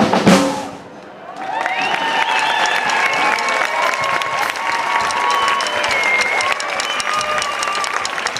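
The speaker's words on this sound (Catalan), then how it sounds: "Aplaudiu més fort que ho han fet bé" An audience at a drum gathering in Granollers gives loud, sustained applause after a drum performance. A brief burst opens the clapping, which then holds dense and even with no talk.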